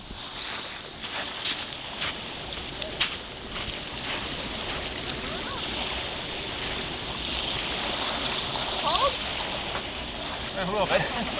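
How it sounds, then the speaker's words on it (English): Arctic Ocean water at Prudhoe Bay, Alaska, makes a continuous watery rush and lapping that stays moderately loud throughout, with outdoor noise mixed in. "This is the Arctic Ocean at Prudhoe Bay."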